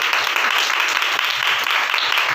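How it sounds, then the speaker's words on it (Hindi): A congregation breaks into loud, dense applause, many hands clapping together in a continuous roar that holds steady and close for the whole stretch. "इसे जोरदार ताली करते हैं।"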